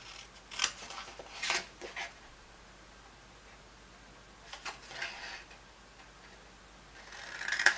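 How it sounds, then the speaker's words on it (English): Scissors cut along the score lines of a paper treat box to form tabs, making several crisp, quiet snips in small bursts separated by pauses, with no voice over them. "cut along the score lines to create some tabs"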